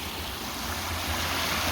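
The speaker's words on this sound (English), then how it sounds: "Hopefully you can hear me, that waterfall." A waterfall at a gold prospecting creek roars as a steady, dense broadband rush with a low rumble underneath, close and continuous, with no voices.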